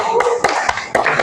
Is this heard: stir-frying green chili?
no